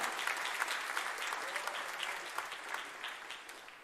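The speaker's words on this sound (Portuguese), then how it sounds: "Você pode aplaudir o nome do Senhor por isso?" Church congregation clapping during a Portuguese-language sermon, a dense sustained patter of many hands that slowly fades toward the end, with faint voices under it.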